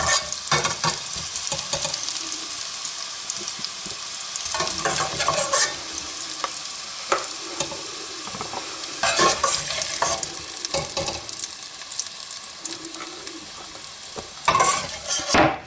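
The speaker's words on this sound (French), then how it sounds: "On va faire suer ça. Une petite coloration pour nos légumes sera amplement suffisante." Vegetables sweating in oil in a rondeau for Moroccan-style chicken. A continuous close sizzle is punctuated by repeated bursts of spoon scraping and clinking against the pan.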